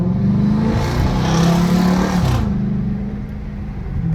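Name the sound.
2013 Chrysler 300 5.7 Hemi engine accelerating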